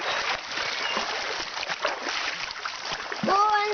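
People splash and slosh while swimming in Pinagtalipan River, with a steady wash of water noise throughout and a closer burst of splashing near the end.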